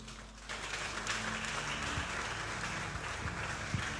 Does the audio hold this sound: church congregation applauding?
yes